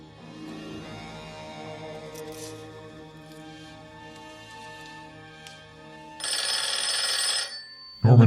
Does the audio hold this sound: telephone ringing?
yes